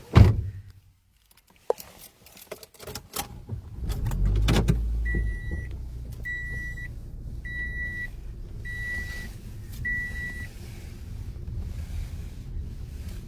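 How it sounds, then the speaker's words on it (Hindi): A car pulls up outside a wedding hall in Madina, its steady low engine rumble building after a brief quiet start and staying close, while five short, evenly spaced beeps sound over it; no one speaks. "ये देखिए पीछे गाड़ी आ गई।"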